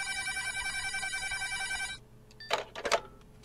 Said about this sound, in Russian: Звук телефонной трубки